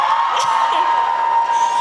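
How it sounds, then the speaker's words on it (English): Audience at a film panel for the cast and director of Little cheers and whoops, a steady crowd roar with scattered yells, fairly loud and continuous. "I would love a big round of applause for the cast and director of Little."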